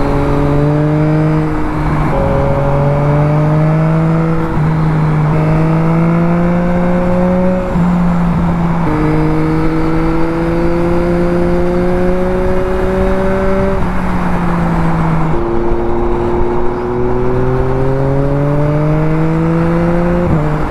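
Engine of a 2021 Yamaha MT-09 motorcycle heard up close, loud and steady, with repeated rising pitch sweeps as it climbs through gears during a ride.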